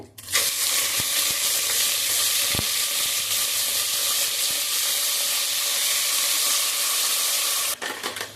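Chicken pieces frying in hot oil inside a pressure cooker give a loud, steady sizzle that runs unbroken for about eight seconds, with a few sharp clinks near the start before it cuts off at the end.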